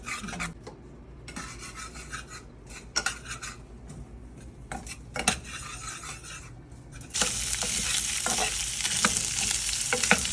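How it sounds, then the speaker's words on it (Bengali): Garlic dropped into hot oil for chicken fajitas, with spoon scrapes and clinks against the pan at first, then a sudden loud bright sizzle that holds steady near the end. "আর এখন দিয়ে দিচ্ছে রসুন ওই তেলের মধ্যে"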